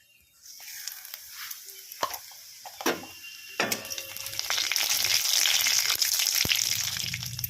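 Nigella seeds sizzling in hot mustard oil in a pan, a steady hiss that grows louder and fuller midway, with a few sharp clinks of a utensil against the pan.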